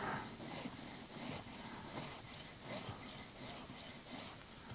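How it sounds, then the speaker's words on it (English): A scraper rasps old glue off a violin in steady back-and-forth strokes, about ten even passes, close and fairly loud with no talking. "I'm just scraping the old glue off"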